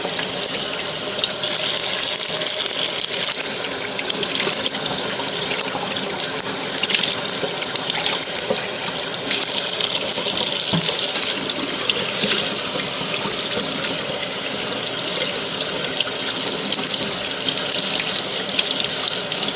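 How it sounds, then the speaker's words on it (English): Tap water runs steadily into a sink while a dyed mop is rinsed, a loud, continuous splashing gush with faint drips and shifting flow, close by and uninterrupted. "I'm holding the camera, so I can't completely rinse these. I'm just going to rinse just enough."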